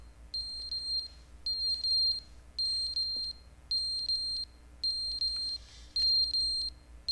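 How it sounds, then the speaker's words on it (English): A fire alarm in The Stanley Parable: Ultra Deluxe video game sounds a steady series of high electronic beep bursts, repeating roughly every second, loud and alone over a low background hum. "That's the fire alarm."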